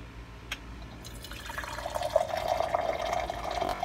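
Water pours steadily into a teapot for brewing loose green tea, a gurgling trickle that builds and rises in pitch as it fills, with a brief clink near the start.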